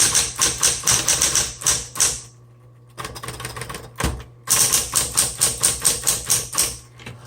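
Rapid bursts of typing on a repainted 1960s Smith Corona Coronet typewriter with small type, crisp key strikes in quick runs, a short pause with a faint hum, then another fast flurry of keystrokes, close and clear.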